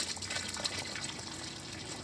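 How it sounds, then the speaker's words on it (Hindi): Water flowing along a channel outdoors, a soft continuous gushing and trickling wash, steady and close, with no voices. "पानी जा रहा है"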